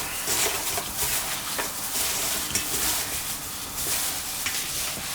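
A gloved hand works raw prawns through cornstarch, making a continuous close-up wet squishing and rustling with small irregular peaks and no speech.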